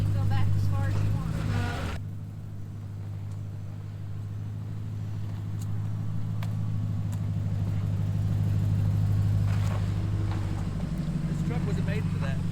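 Pickup truck engine rumbling low and steady on rough ground on a small-town road trip near Bull Shoals, Arkansas, with occasional bumps and rattles and people talking over it.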